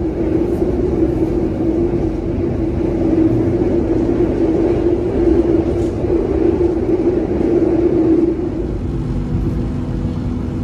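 Onboard the Taksaka passenger train, a loud continuous rumble and rolling drone fills the space with a steady low hum, easing slightly near the end.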